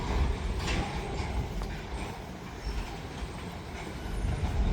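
A CN freight train rumbles steadily past at moderate distance, with a continuous low roll of wheels on rail, faint metallic squeals and clatter, and the noise swelling again toward the end.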